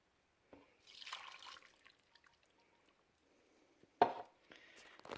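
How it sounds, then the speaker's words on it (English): Liquid poured from an empty cream of celery soup can into a crock pot of beef, heard as a soft splashing pour early on and a sharper wet splash near the end, separated by quiet. "I'll just use this empty cream of celery soup can just to add a little more liquid in there"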